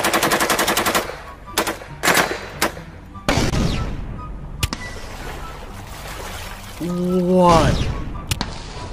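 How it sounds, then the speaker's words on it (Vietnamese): Real-life replica of a Free Fire video game gun firing: loud, close rapid bursts of rattling shots with pauses between them, followed by splashy impacts and a lower mechanical whir. "Nghe tiếng bắn rất là đã tai anh em ạ."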